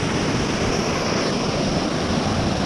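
Broadband rushing roar of a waterfall at Jharuwarashi, Santaneshwor, steady and loud from start to finish, filling the air close by with no voices.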